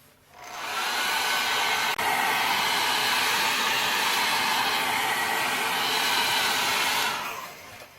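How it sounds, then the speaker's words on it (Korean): A hair dryer switches on, blows with a loud, steady whooshing roar for several seconds, then winds down and stops. "드라이기 소음이 조금 있어요"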